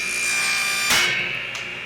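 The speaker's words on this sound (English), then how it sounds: "My initial thought was trim those dominoes on the table saw" Brief burst of a table saw biting into small wooden dominoes, a bright whining motor with one sharp cutting rasp and a second fainter catch, loud and close with no talking.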